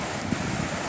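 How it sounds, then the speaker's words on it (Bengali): Sea waves breaking on the beach at Mandarmani at high tide, a loud continuous wash of surf roar with wind noise and no distinct breaks. "ঢেউটা আসছে কি সুন্দর দেখো"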